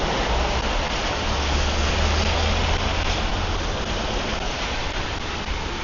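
Steady heavy rain pours onto a street in Samkong, Phuket, on a morning in Thailand, a dense continuous wash of hissing drops with a low rumble underneath and no talking.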